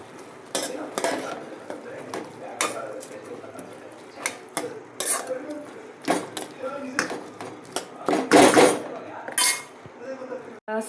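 Food is stirred in a cooking pot with a metal utensil, giving repeated close clinks and scrapes against the pot at an irregular rhythm, with a voice talking over parts of it.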